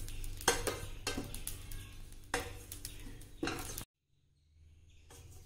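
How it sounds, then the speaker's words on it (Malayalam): Ajwain seeds dry-roasting in a pan for a Kerala Ayurvedic medicinal laddu, heard as close bursts of stirring and scraping over a soft sizzling crackle, with a brief full silence before the stirring quietly resumes. "ഐമോദകത്തിനും ചെറുതായി ഒരു പൊട്ടണ ശബ്ദം കേൾക്കൂട്ട"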